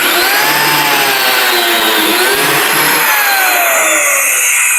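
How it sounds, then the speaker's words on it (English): A biscuit joiner cuts a slot into a wooden table apron, a loud, close, high motor whine with sliding pitch sweeps as the blade bites, continuous throughout. "I'm going to go ahead and cut that slot in there, holding it nice and stable."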